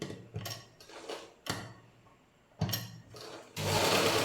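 A sewing machine stitches along a folded fabric edge while a half shimmy is sewn. It runs in several short whirring bursts separated by pauses, then settles into one steady, louder continuous run close by.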